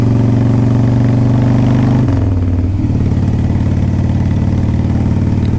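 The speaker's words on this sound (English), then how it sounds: "it's already idling good. It's not stalling out." A carbureted Harley-Davidson Softail Standard motorcycle idles close by with a loud, steady, lumpy rumble that shifts pitch briefly partway through, with no talk.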